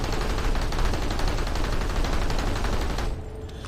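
An automatic rifle in the Planetside 2 video game empties a full magazine in one dense, continuous stream of rapid shots lasting about three seconds, then stops abruptly.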